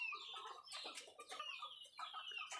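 Breeding hens in a raised wooden cage, a chicken coop on stilts, cluck and squawk close by in quick, irregular bursts with no voices over them.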